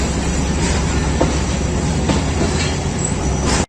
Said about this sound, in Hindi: बहुत ओवरलोडेड ट्रेन है, नज़र आ रही है यहाँ से।